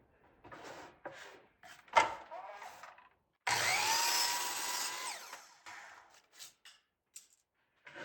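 A power saw squares up the end of a wooden fence picket for a birdhouse build, one loud buzzing cut of about two seconds mid-clip between scattered knocks and handling sounds.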